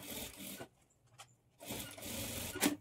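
A sewing machine top-stitches the folded lining edge of a high-neck blouse in two loud bursts of rapid mechanical whirring, with a brief quiet gap between them.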